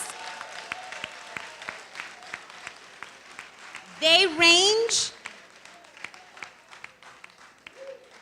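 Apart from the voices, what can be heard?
applause for centenarian seniors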